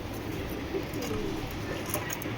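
Large black checker maxi racer pigeons coo softly in a loft, a few low throaty coos heard close amid a steady background hum, with no one speaking.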